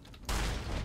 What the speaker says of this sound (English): Shoot him in the head.